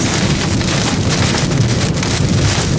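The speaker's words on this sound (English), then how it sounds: "major hailstorm coming across Oklahoma City right now" A major hailstorm with heavy rain pounds down over Oklahoma City, a loud, dense, unbroken roar of hail and rain with gusts of wind buffeting the microphone.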